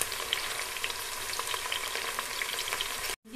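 Sliced okra, about 200 grams, sizzles and crackles in hot oil in a pan for a bhindi gosht dish, a steady close hiss with small pops. It ends in a sudden brief silence.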